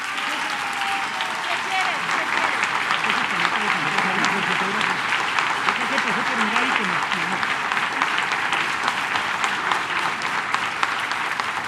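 Loud, sustained applause from a large crowd at a public event honoring a major national construction project, dense and continuous, with voices talking faintly beneath it.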